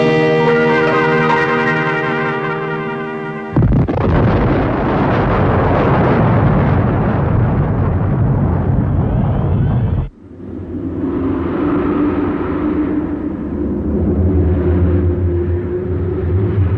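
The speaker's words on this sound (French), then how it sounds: "On dirait qu'une explosion a eu lieu dans les environs de Sirius." A cartoon explosion near the star Sirius comes as a sudden loud roaring blast that cuts in after a tonal musical passage, rumbles thickly for several seconds, then gives way to a lower, sustained churning rumble.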